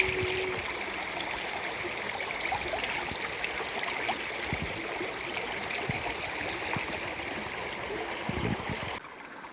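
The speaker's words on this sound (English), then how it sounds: "this here is me and Whisper crossing the west branch of the Piscataquis River" The west branch of the Piscataquis River on the Appalachian Trail rushes steadily as a close, even stream roar for several seconds, then drops off abruptly near the end.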